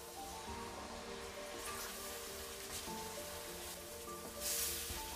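Water poured into a hot pan of sliced sucuk sausage, with a steady crackling sizzle throughout and a brighter hissing burst near the end.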